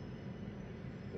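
A passing Union Pacific freight train produces a steady, broad rumbling roar with a heavy low end. The sound stays constant with no distinct clacks and no voices.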